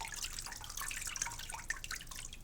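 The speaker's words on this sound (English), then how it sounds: "And the water is dripping from below." Water drips and trickles from a papermaking frame as it is lifted from the vat, with quick, irregular, close-up patters and splashes.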